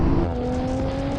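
A BMW M4, AMG C63s and Audi RS5 launch together in a drag race on a damp track, a steady, loud engine drone with strained, climbing tones, heard close.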